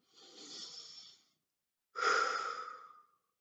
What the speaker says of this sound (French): pour être conscient, faire une respiration comme je fais toujours